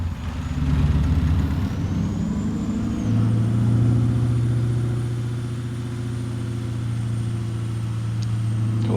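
A Peterbilt 389-style truck engine in American Truck Simulator idles and runs with a deep, steady rumble, fairly loud and continuous, its pitch shifting slightly partway through, with no talking.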